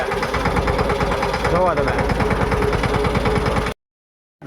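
A tractor engine idles close by, loud and steady, with a regular thumping pulse. A voice speaks briefly over it before the sound cuts off abruptly.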